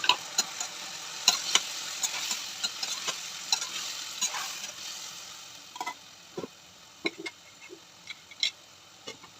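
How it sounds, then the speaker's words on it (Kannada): Ground masala paste for veg biryani frying in a pan with tomato and mint, a soft sizzle with scattered clicks and scrapes of stirring, close and moderately loud. "ಈಗ ನಾನೇನು ರುಬ್ಬಿರೋ ಮಿಶ್ರಣ ಹಾಕಿದೆ"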